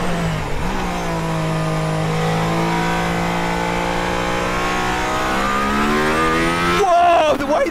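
A Mercedes-AMG ONE hypercar accelerates on the Nürburgring, its engine droning loud and close in a long rising pull, then shifting sharply near the end, with a voice briefly heard inside.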